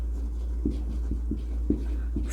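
Marker or chalk tapping and stroking across a board while a definition is written in a classroom, a series of short soft taps over a steady low hum.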